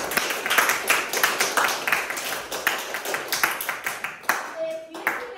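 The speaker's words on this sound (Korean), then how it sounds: "자, 박수 한번 주세요." Audience clapping at a speech club session in a classroom-style setting, a ragged burst of hand claps with uneven rhythm that thins toward the end, where a brief tone and faint voices come through.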